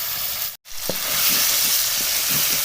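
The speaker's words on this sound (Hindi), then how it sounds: "अब इसको 1 से 2 मिनट के लिए भुनाई कर लेते हैं" Tomato, garlic and ginger paste fries in a pan with a steady close sizzle, broken by a brief silence before rhythmic spoon stirring scrapes through the hiss.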